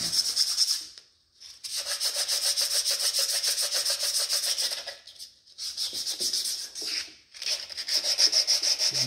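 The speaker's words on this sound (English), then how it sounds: "When you're sanding on cast iron" Close, steady rasping strokes of hand sanding on a cast iron engine head scrub back and forth in a fast, even rhythm, pausing briefly twice before resuming.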